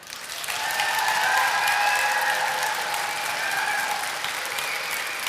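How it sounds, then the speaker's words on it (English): An audience at a horse-training competition bursts into loud, sustained applause, many hands clapping together in a dense wash that swells quickly and holds steady. "If you guys could clap on the borderline of very loud"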